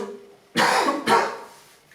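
Two sharp coughs in quick succession, close and fairly loud, then fading into quiet.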